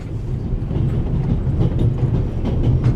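Train wagons rolling along the rails, a steady low rumble with a repeating clickety-clack from the wheels, close and continuous throughout.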